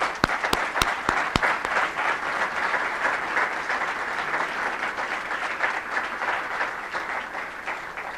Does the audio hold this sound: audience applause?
yes